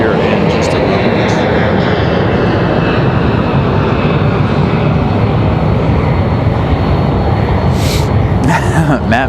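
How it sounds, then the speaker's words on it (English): A United Express Embraer E-175 jet taxis at Raleigh-Durham airport, its loud, close engine whine and rumble filling the air continuously, with a few brief sharper bursts near the end. "United Express on the move in that E-175."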